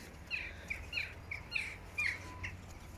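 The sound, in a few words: many birds calling outdoors in Sweden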